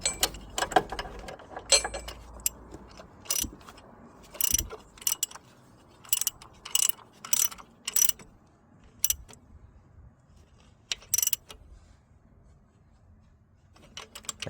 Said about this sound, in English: Then the bolt goes in, and hand tighten it to start off with. Just gonna torque it up.